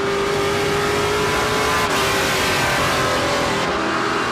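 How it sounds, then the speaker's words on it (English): A loud NASCAR Pinty's Series race car engine roars steadily at close range at Canadian Tire Motorsport Park, downshifting aggressively into a corner, its pitch holding and shifting slightly as it drones on without pause. "you can hear how aggressively they downshift and use that engine to help slow the race car down"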